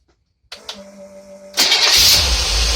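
A 468 big-block engine fed by a Holley carburetor cranks and catches, then settles into a loud, steady idle that swells into a fuller, rougher rumble after about a second and a half, with no voices.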